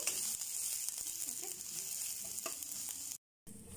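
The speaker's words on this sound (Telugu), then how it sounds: "వీటిని మనం ఒక ఒక నిమిషం పాటు ఫ్రై చేసుకోవాలి" Capsicum pieces frying in a pan for cabbage manchuria, a soft continuous sizzle with faint stirring scrapes, cutting out briefly near the end.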